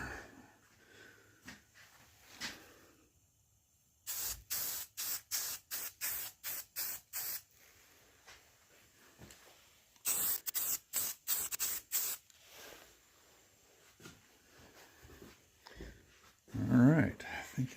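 Standard spray paint hisses from a can onto a Coleman lantern in two bursts of short, rapid sprays, each run of pulses loud and close, separated by quieter pauses with faint handling sounds.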